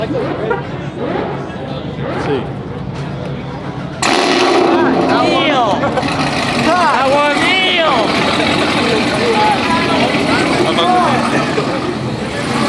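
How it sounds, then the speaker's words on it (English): A Chevrolet Camaro revs loudly in bursts with a rough exhaust rumble at a pizza shop grand opening, while people chatter nearby. "Hopefully you like the sound of the exhaust."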